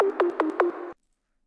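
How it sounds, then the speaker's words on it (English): Four quick synth plucks made in Serum from a sine wave, with sharp attacks and short decays, evenly spaced over a sustained tone in a drop, then abrupt silence. "I added this new pluck sound"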